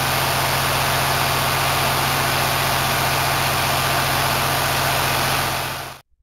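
An EMD 710 two-stroke diesel locomotive engine running, a loud, dense, steady drone with a low throbbing pulse that holds unchanged and then cuts off abruptly near the end.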